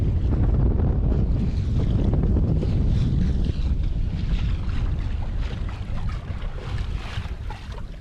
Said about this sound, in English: Wow, so the wind's really picked up.